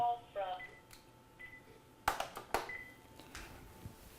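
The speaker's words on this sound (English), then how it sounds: "Sorry, both my phones are ringing here." Two office telephones ringing at once during a spring 2018 internet course orientation lecture, giving sharp electronic tones in short bursts with quiet gaps, fairly close and loud, heard alone without talk over them.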